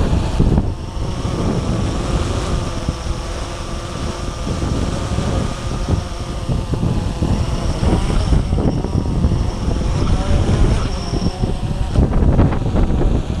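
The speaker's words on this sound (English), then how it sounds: "We got a lot of wind coming in." Strong gusting wind of about 15–20 mph buffets the microphone outdoors in Texas, producing a loud, constant low rumble with rough bursts throughout and no one speaking.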